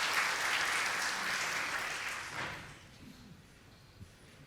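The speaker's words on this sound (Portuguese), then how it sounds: "Palmas para um amigo aqui que teve a coragem" An audience claps for a volunteer at a cultural event, the applause loud at first and then steadily fading over a few seconds to near quiet.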